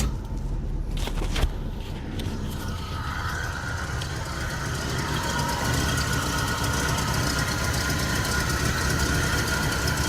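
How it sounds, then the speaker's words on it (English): A formerly seized Oldsmobile 98 engine runs steadily and loudly for the whole stretch, a continuous rough idle while it pumps water through the block and out the top radiator hose. "we'll fire it up and let it pump"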